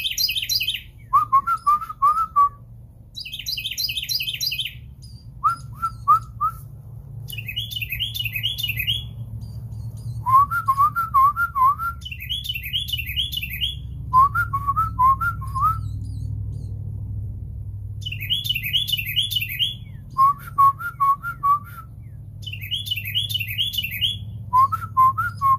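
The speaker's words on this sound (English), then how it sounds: "your chirping is lovely, but you're almost so loud" A pet bird chirps loudly and repeatedly in bursts of bright, whistling tweets and trills, close to the mic, over a low steady background hum.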